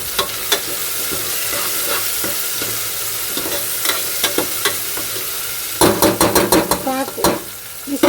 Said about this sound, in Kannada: ಚೆನ್ನಾಗಿ ಫ್ರೈ ಆಗಿದೆ ಟೊಮೆಟೊ ಕೂಡ, ಇನ್ನೊಂದು ಸ್ವಲ್ಪ ಫ್ರೈ ಆಗಬೇಕು